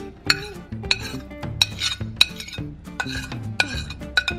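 Creamy shrimp fettuccine with extra cheese stirred through it in a pan, a utensil clinking against the metal in a steady run of sharp taps and scrapes, close and moderately loud with no talking.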